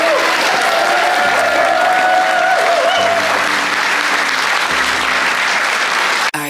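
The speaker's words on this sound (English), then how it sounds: "Round of applause." Wedding guests at a lodge reception break into loud, sustained applause, a full wash of clapping with faint tones and voices underneath before it cuts off abruptly.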